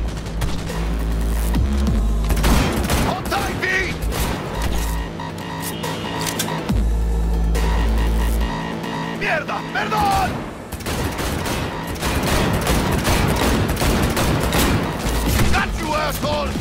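Rapid bursts of gunfire crackle through a frantic car chase in Cyberpunk 2077, with heavy low engine rumble and booms underneath while shouting voices break in between the volleys.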